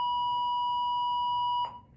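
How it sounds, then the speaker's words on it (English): A school alarm sounds as a single steady electronic beep, clear and fairly loud, holding without a break for over a second and a half before cutting off abruptly. "that is the alarm time for school"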